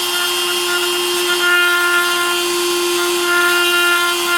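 Small rotary tool with a tiny carbide burr, used to grind rivet heads off a Dinky 187 De Tomaso Mangusta die-cast model, gives a steady high-pitched motor whine that holds a constant tone, close and loud throughout.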